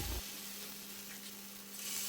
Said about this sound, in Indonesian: Kemudian kita angkat dan lanjut langsung kita goreng ya teman-teman.